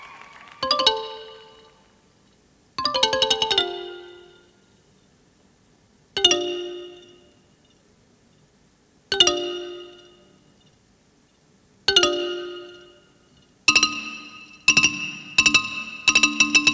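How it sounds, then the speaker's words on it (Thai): A Thai ranat xylophone plays a solo, struck phrases ringing out in separate bursts that each decay into silence, then a quicker run of bright strikes at the end, loud and close. "ลีลาการเล่นระนาดเพราะๆ"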